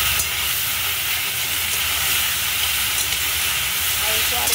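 Okra frying in a pan with salt and turmeric sizzles in a loud, steady, bright hiss that carries on without a break, close up and with no one talking over it.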